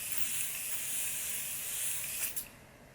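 Makeup setting spray sprays in one long, steady hiss close by, followed by two short puffs near the end.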